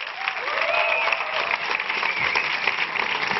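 A studio audience applauds a guest arriving on stage at a Spanish comedy show, loud, even clapping with a few cheers mixed in.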